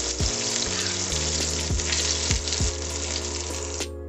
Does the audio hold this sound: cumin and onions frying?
yes